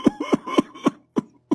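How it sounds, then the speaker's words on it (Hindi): A rapid series of short, throaty coughs, about six bursts in a little over a second, close and fairly loud, coming in an uneven rhythm with brief pauses and no talk between them. "आपकी तो खांसी रुकने का नाम ही नहीं ले रही है।"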